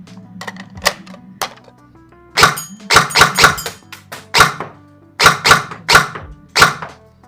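G&G Armament ARP556 airsoft gun with a PDW stock and short barrel fired on semi-automatic, a string of sharp separate mechanical clacks in uneven bursts, loud and close.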